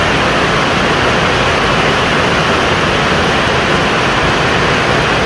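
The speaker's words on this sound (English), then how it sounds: "It is pouring." Heavy rain pours down outdoors in a dense, steady roar, loud and close, with no letup and no voices.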